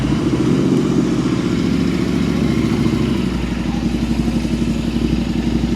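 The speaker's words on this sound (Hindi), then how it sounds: "ये है साउंड इसका जब आप बाइक को स्टार्ट करते हो।" A Royal Enfield Interceptor 650 with an RRP full-system exhaust idles close by, its steady, loud low thump running evenly throughout with a slight drop in tone midway.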